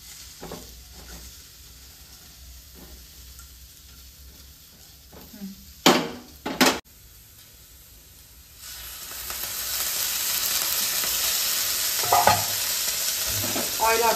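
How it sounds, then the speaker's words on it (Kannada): Chopped okra frying in oil in a pan for a palya is stirred with a few scrapes and two sharp clatters midway, then a louder, steady sizzle swells and continues to the end. "ಆಯಿಲ್ ಹಾಕ್ಕೊಂಡು ಸ್ವಲ್ಪ ಫ್ರೈ ಮಾಡ್ಕೋಬೇಕಿದು."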